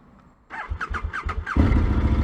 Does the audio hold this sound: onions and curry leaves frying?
no